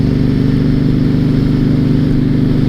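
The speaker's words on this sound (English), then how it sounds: "these V-twin engines really are nice" A 2006 Honda VTX1300 V-twin motorcycle engine runs steadily at low revs with a deep, loping pulse, loud and close throughout with no talk.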